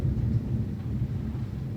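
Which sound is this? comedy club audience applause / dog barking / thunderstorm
thunderstorm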